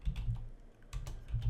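Keys clatter on a computer keyboard in short bursts of close, moderately quiet typing with brief pauses between clusters of keystrokes.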